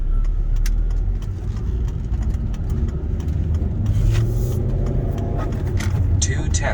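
A 2011 Volvo C30 R with a manual gearbox cruises on the freeway, a constant low engine and road rumble with tire noise, while people talk over it inside the cabin.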